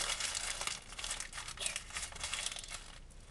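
A small scrap of paper being crinkled and crumpled close by, a steady rustling crackle with no talk.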